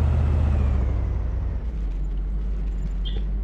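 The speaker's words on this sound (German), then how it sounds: "Oh, ein Bus!" A bus in the video game DayZ rumbles past nearby with a low, heavy engine drone that drops and settles halfway through, followed by a faint hiss like an air brake.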